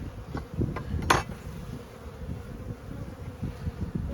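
Honeybees hum around an opened hive with an empty upper box and no brood, a steady low close drone with a brief sharper buzz near the one-second mark, no talk.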